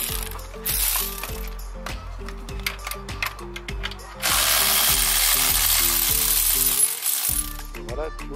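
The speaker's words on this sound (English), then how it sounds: "pulling the 6 lower bolts from the gearbox" Ratchet wrench loosening the lower gearbox bolts on a car, a rapid series of close metallic clicks in bursts, then a steady hiss of workshop noise.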